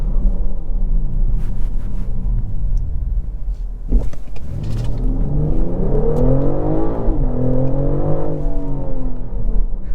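A 2024 BMW X6 xDrive40i with a mild hybrid powertrain accelerates hard, its engine note rising in pitch through the gears with a brief shift break, a steady loud rumble heard from inside the cabin.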